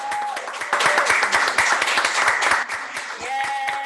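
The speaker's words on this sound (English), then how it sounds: "Can I get a round of applause?" A crowd bursts into a round of applause, dense rapid clapping that swells and then tapers, with voices talking briefly at the start and end.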